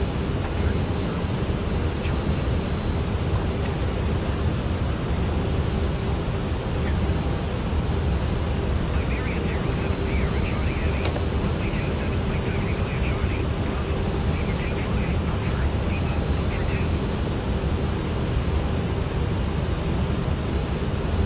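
Four jet engines of an Aerosoft A340 airliner in Iberia livery in a flight simulator, a steady broadband roar and hum that holds constant throughout the taxi, with a brief faint click partway through.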